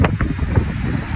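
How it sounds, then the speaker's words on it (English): Gusty outdoor wind in Tokyo's Takadanobaba on a morning walk buffets loudly and steadily, a dense low rumble with brief rustling bursts, no speech. "it's windy out here"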